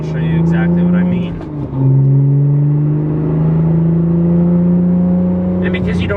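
A 2010 Lotus Evora sports car driving through corners, its engine drone rising and falling in pitch as it accelerates and shifts, loud and close, with someone talking over it at the start and end.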